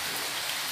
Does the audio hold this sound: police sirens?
no